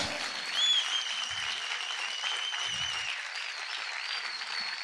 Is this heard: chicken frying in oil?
no